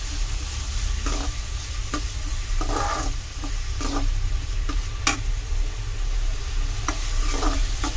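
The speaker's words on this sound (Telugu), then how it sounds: "ఆనియను అండ్ టమోటా రెండు బాగా స్మాష్ అయ్యే విధంగా ఫ్రై చేద్దాము" Onion and tomato fry and are stirred in a pan for a Madurai-style meat curry dosa, a steady sizzle running throughout with scattered scraping clicks of the spoon against the pan, close and fairly loud, no talking.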